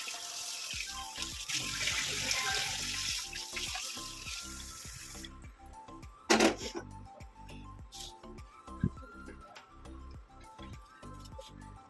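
Tap water runs into a kitchen sink while dirty dishes are washed, a steady splashing stream at first, then quieter dripping with clinks and knocks of utensils, close by.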